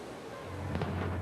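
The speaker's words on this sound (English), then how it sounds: "so a new one, particularly one as big as Oriana, is saluted with fireworks" Fireworks salute the cruise ship Oriana at Madeira: a single deep boom rises out of background rumble and rolls on afterward, heard from a distance.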